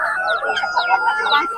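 Chickens, including Brahma hens, at the Sabunchu poultry market in Azerbaijan cluck and squawk continuously nearby, a busy overlapping chorus of bird calls without clear speech.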